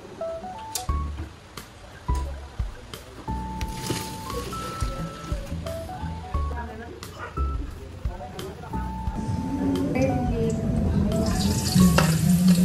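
Onion and ground beef sizzle in a pan with salt and pepper, a steady frying hiss that builds toward the end, broken by clinks and stirring knocks, while people talk over it.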